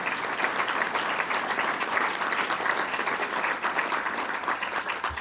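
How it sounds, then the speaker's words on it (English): A crowd at a climate change event breaks into steady, sustained applause, many hands clapping together at an even level from start to finish, with no voices over it. "I'd like to give him a round of applause"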